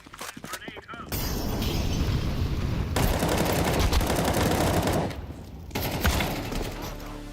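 Rapid gunfire bursts and shattering impacts rattle through a Counter-Strike style shooter video game, dense and loud for several seconds, with a short lull before more shots follow.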